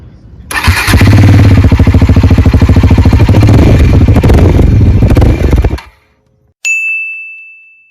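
A Bajaj Pulsar N400Z motorcycle engine roars loudly at close range, held at high revs for about five seconds before it cuts off. A bright electronic ding follows after a brief silence.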